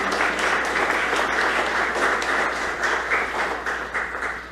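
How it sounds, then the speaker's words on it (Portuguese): An audience at a book launch applauds a literary critic, with a steady, full round of clapping that stays loud and then eases slightly toward the end. "Eu peço uma salva de palmas para ele"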